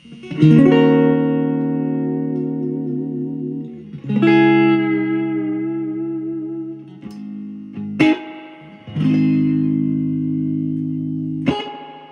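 Electric guitar chords ring out through a 1965 Super amp cabinet with reverb set on 3, drenched in heavy reverb, each strum decaying into a long, washy tail before the next, with no talking.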